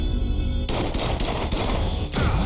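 Automatic gunfire in a video game demo, rapid loud bursts of shots breaking off and resuming in quick succession, close and dominant throughout.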